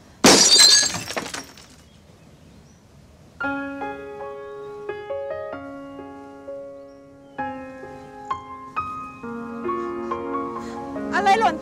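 An object drops and glass shatters in a short, loud, bright crash at the start, followed by quiet and then gentle melodic music with sustained notes.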